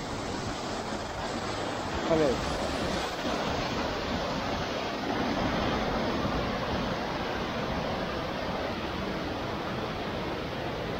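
A waterfall beside a water mill roars as steady broadband rushing water, loud and close throughout, while someone speaks briefly over it.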